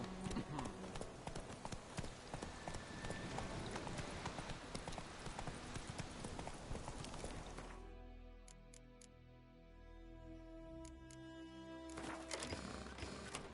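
Horse hooves gallop in The Witcher 3 on PS4, a fast steady clip-clop close up for about eight seconds, then a quieter stretch with a few faint ticks before the hoofbeats return; someone talks over it.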